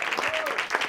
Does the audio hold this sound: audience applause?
yes